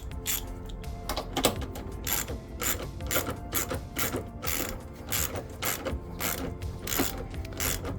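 Ratchet wrench tightening a nut on an Apex Engineered front strut brace of a Datsun 280ZX Turbo, a fast run of close, crisp ratcheting clicks that continues steadily throughout with no talking.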